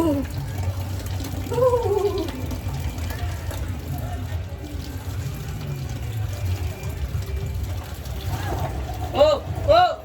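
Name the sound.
water being filled for water balloons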